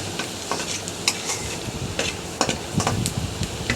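Garlic sautés in oil over low heat for fried rice, with a close, steady sizzle broken by irregular scrapes and clinks of a spoon stirring the pan.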